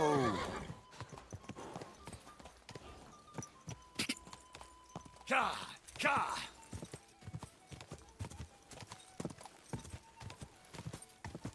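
A ridden horse clip-clops at a brisk pace and whinnies loudly partway through, its hoofbeats close and uneven, while a rider shouts urging calls over the galloping.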